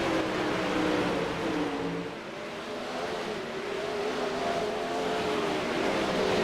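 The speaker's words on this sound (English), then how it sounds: "And right now he has got that Diamond Motorsports number 91 just a humming" The Diamond Motorsports number 91 race car hums steadily through a Rivalz Elite Pro race at Charlotte, a continuous engine drone with a slight dip and recovery in pitch, heard alone.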